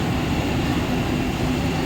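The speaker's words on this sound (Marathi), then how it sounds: "प्लॅटफॉर्म क्रमांक 3 पर आई हुई लोकल 7:32 की टिटवाला जाने वाली तेज लोकल है।" A Mumbai local train, a fast service bound for Titwala, stands at platform 3 of a station at night, giving a steady low rumble and hum that fills the whole stretch without pauses.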